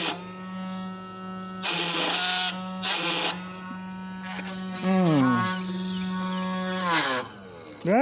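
A Chinese drill press runs with a strong, steady mechanical whine from its vibrating column, with bursts of harsher grinding as the bit drills and pitch sweeps as the motor changes speed, loud and close.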